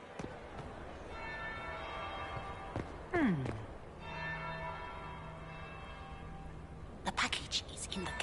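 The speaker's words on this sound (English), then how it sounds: "That would be the second bell." A church bell tolls twice in Dragon Age Inquisition, each stroke leaving a long ringing decay under a quiet game ambience, with a short swoosh between the strokes and light clatter near the end.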